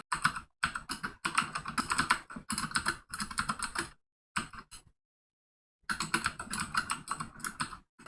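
Fast bursts of typing on a computer keyboard while writing JavaScript code, close and crisp, with short pauses and one silent gap midway before the clatter resumes.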